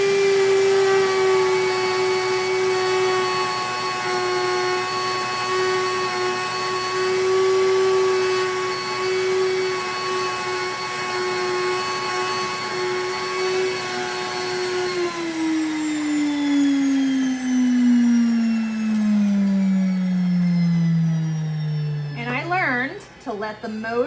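A Nutrimill grain mill motor grinds grain into extra fine flour with a loud, steady whine through most of the run, then winds down in falling pitch as it slows near the end, with a few brief knocks at the close.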